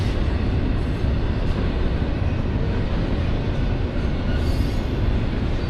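Railcars roll by at close range in the historic Route 66 town of Williams, Arizona, a sustained heavy rumble and rattle of wheels on track that holds steady throughout.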